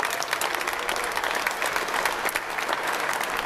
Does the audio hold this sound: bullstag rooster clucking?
no